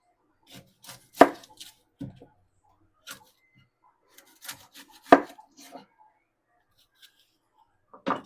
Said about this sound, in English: the rest of this will be cut up